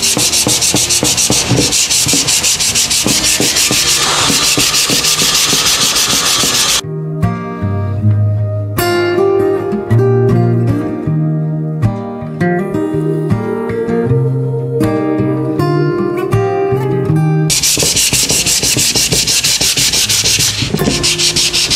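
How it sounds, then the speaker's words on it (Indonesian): MDF board being sanded before an epoxy coating, with harsh rhythmic rubbing strokes, loud and close, interrupted midway by a stretch of music before the sanding resumes. "Kita langsung amplas dulu sebelum di epoksi. Oke, tahap pengamplasan sebelum kita epoksi ya?"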